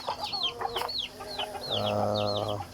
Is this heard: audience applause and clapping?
no